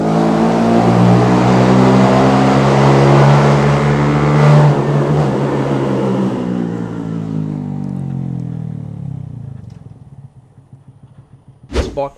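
A Honda Grom motorcycle with a cheap eBay aftermarket exhaust revs hard and loud at close range, then the engine note drops and fades over several seconds, ending with a brief sharp click, and no one speaks.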